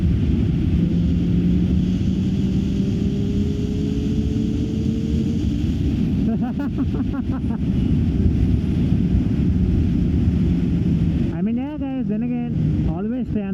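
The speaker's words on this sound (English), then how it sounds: "Wind blast, wind blast, wind blast." Heavy wind blast roaring over a rider on a Triumph Street Triple motorcycle at speed, a loud continuous rush of buffeting air mixed with engine drone, while the rider talks over it.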